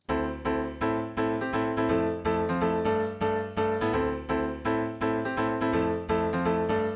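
Repeated virtual grand piano chords, Arturia, strike in a steady pulsing rhythm, dry without reverb, full and resonant, each decaying briefly before the next, with no voices.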